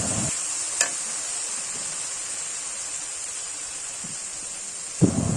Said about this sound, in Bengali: আবারও নেড়ে চেড়ে দিচ্ছি।